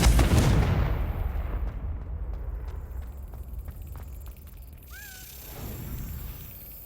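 A Confringo blasting spell goes off in Hogwarts Legacy with a loud, close burst that fades into a long, rumbling decay, followed by faint scattered clicks and a brief chirping sound.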